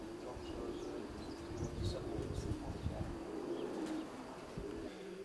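Racing pigeons coo softly and steadily inside a loft, low murmuring calls overlapping continuously with a few faint chirps, close by and fairly quiet throughout.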